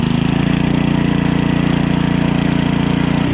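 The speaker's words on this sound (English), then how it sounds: "that is how you start a snowblower" A snowblower engine runs loud and close at a steady, rapidly pulsing idle after starting, with a slight change in tone just before the end.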